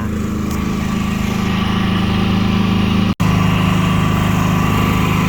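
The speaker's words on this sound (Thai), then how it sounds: "ขณะนี้ก็อาจจะเสียงดังหน่อยครับ เพราะว่าต้องสตาร์ท เครื่อง เจน เพื่อใช้กับงานครัว" A petrol generator started to power kitchen work on a caravan trip in Kanchanaburi, Thailand, runs as a steady, loud, close engine drone with a single momentary dropout partway through, and no voices.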